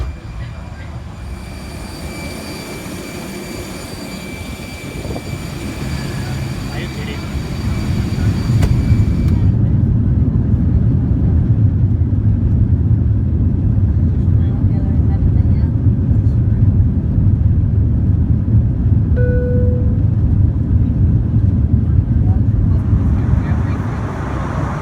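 Steady, loud airliner cabin drone during a flight, a broad low rumble that thickens and grows louder partway through and holds constant, with faint tonal hums early on and no voices.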